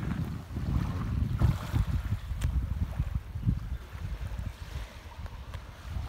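Heavy, rumbling sea waves churn continuously, mixed with gusty wind buffeting the microphone; no voices.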